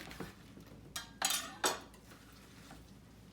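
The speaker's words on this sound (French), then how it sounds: "je vais vous montrer avec le chou chinois que je cuisinerai ce soir. Donc, là, je vais découper le cœur." A knife cuts into the core of a Chinese cabbage, making three short crisp crunching cuts close by, with quiet pauses between them and no talking.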